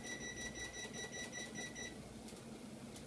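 A kitchen timer being set while granola bakes, giving a run of faint rapid electronic beeps over steady background noise for about two seconds, then quiet room noise.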